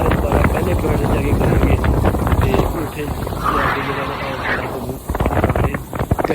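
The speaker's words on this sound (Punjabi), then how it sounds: "ਕਸ਼ਤੀ ਕਾਫੀ ਤੇਜ਼ ਹੈ ਤੇ ਹਵਾ ਦਾ ਬੜਾ ਸ਼ੋਰ ਹੈ।" A fast boat speeds across the water at Khanpur dam, its steady rush buried under loud, buffeting wind noise against the microphone throughout, with a brief dip near the end.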